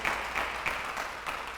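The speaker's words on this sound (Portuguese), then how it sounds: "Dá um aplauso ao Senhor aí, pode dar" Churchgoers give a brief round of applause, soft, fairly distant clapping with a loose pulsing rhythm over about a second and a half.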